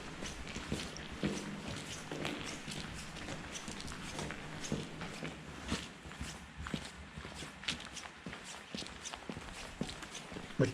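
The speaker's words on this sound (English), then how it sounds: "Be able to hear the echoes of the footsteps." Footsteps tread at a steady walking pace, each step ringing with a hollow echo beneath an old railway bridge.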